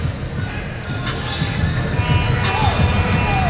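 Basketball crowd at an NBL Canada game, Cape Breton Highlanders against Windsor Express, roaring and cheering after the first dunk, a loud sustained arena swell with whistles and shouts and a commentator talking over it.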